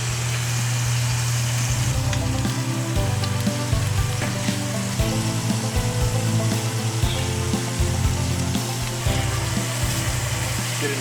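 Sliced portobello mushroom caps, gills left in, searing in a hot pan: a steady, loud sizzle and crackle throughout, with a low background hum.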